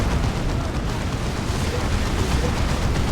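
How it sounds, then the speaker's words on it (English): Grenade barrage from Imperium squads in Warhammer 40,000: Dawn of War 2 during a 3v3 Imperium versus Chaos battle, a dense continuous rumble of overlapping explosions, loud and close throughout. "Grenade barrage does well."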